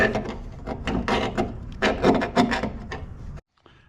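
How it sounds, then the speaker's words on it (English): Small rat-tail file rasping inside bolt holes of a metal adjustable tailgate license plate mount for a Bronco, with quick back-and-forth strokes close up for about three seconds, ending abruptly. "I'm just gonna use this little rat's tail just to make sure that there's no burrs inside the holes."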